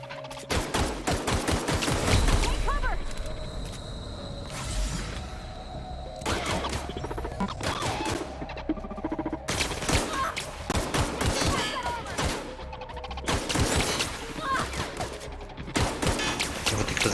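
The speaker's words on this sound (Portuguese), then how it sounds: "Eu tenho um poder aqui. É que é metralhadora, né?" Machine gun fire in the video game The Outer Worlds comes as dense, rapid bursts of loud, close shots, broken by short pauses and layered with impact and crash effects.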